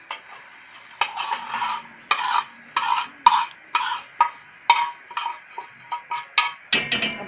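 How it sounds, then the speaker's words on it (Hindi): Boondi being stirred through hot, reheated sugar syrup for motichoor ladoo, with repeated scraping strokes of a spoon against the pan in a steady rhythm and a light sizzle underneath, close and clear. "अभी हमने इसमें बूंदियाँ शामिल कर दी हैं।"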